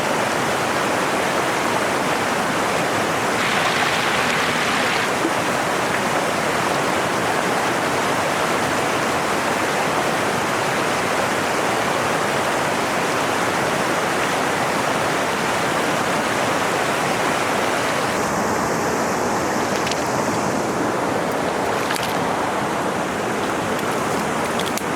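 A flooded river in the Australian bush rushing past in a dense, constant roar of water, loud and close throughout with no voices.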